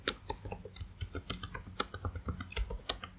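Rapid, uneven keystrokes on a computer keyboard, close and clear, clicking steadily for a few seconds with no voices.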